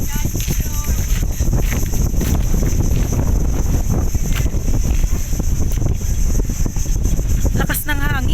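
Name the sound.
strong wind blowing into the microphone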